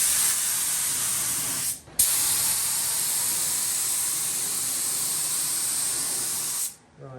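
A paint spray gun sprays in a steady, loud broadband hiss, cutting off briefly near two seconds, resuming, and stopping again near the end.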